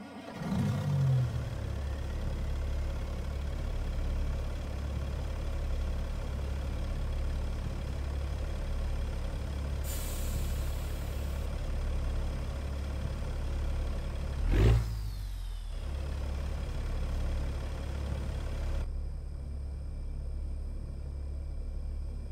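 A deep diesel engine in a truck-driving video game, a Caterpillar C12 rated 475 horsepower in a Peterbilt 379/389-style truck, rumbles steadily at idle, with a brief rising surge mid-clip, continuous and close throughout.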